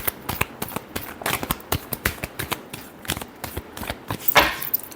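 Tarot cards are shuffled by hand in quick bursts of crisp riffling and slapping, loud and close, followed by a brief squeaky rustle near the end.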